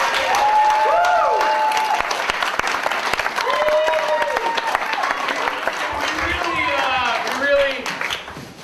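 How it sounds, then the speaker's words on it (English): A theater audience at a No Shame Theater night at NC Stage Co. in Asheville breaks into loud, sustained applause throughout, with voices calling out over the dense clapping. "please give yourselves a round of applause."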